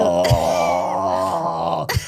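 A voices a loud, drawn-out, guttural groaning snore in imitation of a monstrous sleeper, a continuous rumbling vocal drone with a couple of short breathy bursts, close and dominant.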